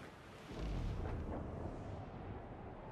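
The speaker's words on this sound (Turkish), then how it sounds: "Patlama alanından kaç." An explosion in Assassin's Creed IV: Black Flag, a deep booming blast that swells into a sustained rumbling roar and slowly fades.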